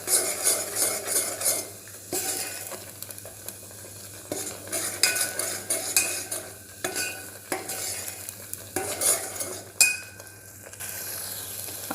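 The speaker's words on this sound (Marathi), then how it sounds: "व्यवस्थित मसाला परतून घ्यायचा." Masala sautéing in hot oil for Maharashtrian patodi rassa: a spoon scrapes and clinks against the pan in bursts while a soft sizzle continues underneath, with brief pauses between stirring strokes.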